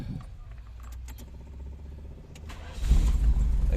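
A carburetor-converted automatic car with one-click start is cranked with keys: a jangle of keys over a low idle hum, then the engine catches near 2.8 seconds and roars up loud and close.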